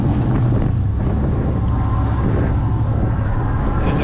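Twin Yamaha F200 outboard motors push a Stabicraft 2500 Ultra CB around in a spin on the water: a steady, close, low engine rumble heavily buffeted by wind across the microphone throughout.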